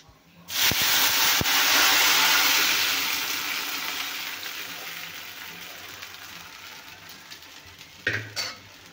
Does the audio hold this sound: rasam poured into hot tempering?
yes